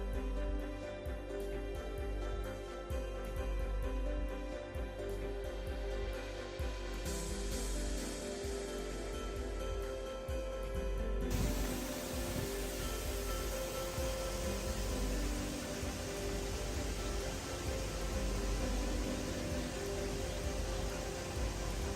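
Steady rushing water from a waterfall at Mae Taeng, Chiang Mai, a constant dense hiss that grows brighter and fuller partway through, with no voices.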